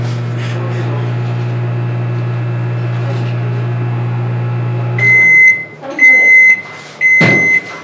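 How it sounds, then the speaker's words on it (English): A microwave oven hums loudly and steadily for about five seconds, then stops and gives a series of high, clear beeps in several short bursts, with faint voices in the background. "Whose microwave is this?"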